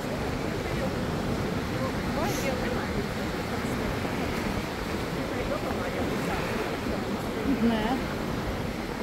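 Sea waves washing onto the shore in Crete, a steady rushing surf mixed with wind buffeting the microphone, while people talk quietly over it.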